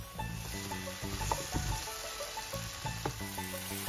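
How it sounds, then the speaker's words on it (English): Asparagus stir-frying with ginger, garlic and sugar in a hot pan, giving a steady close sizzle with a few scraping stirs of the utensil and no talking. "Then stir fry until the asparagus is already cooked."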